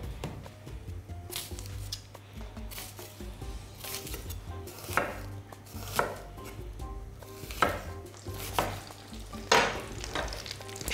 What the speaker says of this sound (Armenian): Սոխը կտրատելու պարտադիր ձևը նկատի ունեմ, պարտադիր պայման չկա, կտրատեք ինչպես կուզեքի